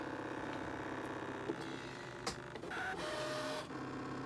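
Electronic cutting machine cutting a Mylar stencil, a continuous motor whir with carriage shuttling, soft clicks and pitch shifts as the blade moves, close and steady.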